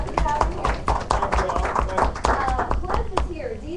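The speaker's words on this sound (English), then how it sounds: "Everybody give him a hand clap." Hand clapping from attendees at a business networking meeting, a fairly close flurry of claps in uneven rhythm, with people talking over it.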